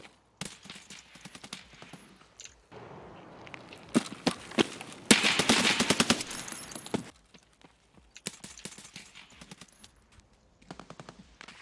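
Submachine gun fire in Escape from Tarkov, crackling in rapid automatic bursts with short pauses between them and a longer sustained volley in the middle, loud and close with no talking over it.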